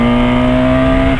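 A BMW R1200 motorcycle accelerates in road mode, its engine a loud, close, steady tonal drone with strong harmonics that holds briefly before easing off.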